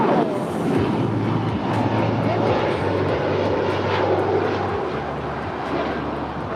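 A fixed-wing jet airliner lands on runway 25 left at LAX, a loud, steady engine roar close by with a sustained low drone throughout.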